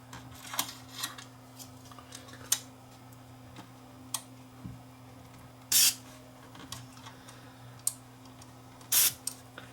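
Cleaner sprayed into four ganged controls on a Technics SA-GX670 stereo receiver: two short, close spray bursts among faint ticks and clicks over a steady low electrical hum.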